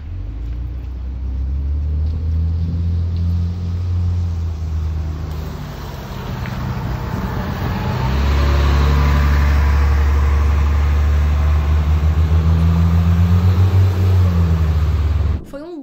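Buses pass a street bus stop in Ottawa with a heavy, continuous engine rumble that swells louder midway and holds steady before cutting off at the end.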